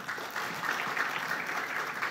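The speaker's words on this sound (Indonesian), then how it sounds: "tepuk tangan Bapak Ibu Saudara" A church congregation at an anniversary service breaks into steady applause, a brief, even wash of clapping from many people at moderate volume.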